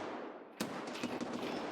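Video game gunfire rings out in a sharp, loud crack, then a rapid run of shots and ricochets over a constant roar of background noise, with no talking.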